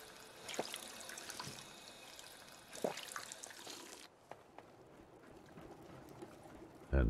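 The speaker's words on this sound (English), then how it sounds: "And we'll grab a quick drink of water here." Water runs from a tap in Fallout 4, a soft trickling and splashing game effect with a few brief bursts before it cuts off.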